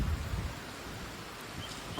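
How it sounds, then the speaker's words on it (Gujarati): Heavy monsoon rain pours steadily outdoors along a roadside in Gujarat, a dense, continuous wash of noise with a low rumble at the start and no talking. "અત્યારે વરસાદ ચાલુ થઈ ગયો છે"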